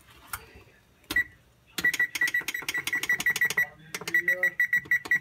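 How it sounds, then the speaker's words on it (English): A kitchen timer being set for 20 minutes while making deer jerky, giving rapid runs of loud, close electronic beeps in quick bursts, with a pause between the first chirps and the longer button-press sequences. "Now I'm gonna have a timer for 20 minutes."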